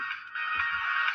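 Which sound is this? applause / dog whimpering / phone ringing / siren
phone ringing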